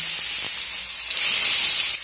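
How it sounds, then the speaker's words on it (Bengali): Prawns dropped into hot mustard oil in a kadai give off a loud, steady hiss of frying that swells briefly and then settles, with no voices. "এখন চিংড়িগুলো ভাজার জন্য গরম তেলের মধ্যে দিয়ে দিলাম"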